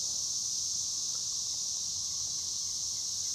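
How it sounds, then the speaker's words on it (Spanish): Cicadas buzz in a steady, unbroken high-pitched drone that stays at an even level throughout, with a faint low background beneath. "Oigan nomás el sonido de las chicharras."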